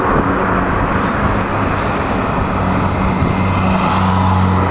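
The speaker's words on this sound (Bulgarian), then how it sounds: "Коли, мотори." Cars and motorbikes roll past at the start of a Tour of Bulgaria cycling race in 2010, a loud, unbroken wash of engine and road noise with a low rumble throughout.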